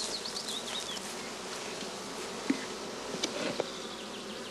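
Honey bees buzz around nucleus boxes set up in the open, a dense continuous hum of many insects close by, with a few brief clicks and knocks.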